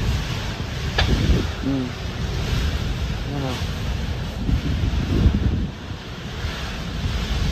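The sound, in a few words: strong wind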